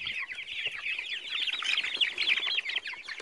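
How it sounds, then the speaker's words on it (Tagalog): Farm chickens cluck and chatter continuously close by, a busy overlapping run of short calls from several birds without any human voices. "Chickens!"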